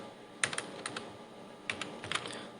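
Quiet computer keyboard typing during C++ code entry: two short bursts of quick keystrokes separated by a pause, close and crisp, with no talking.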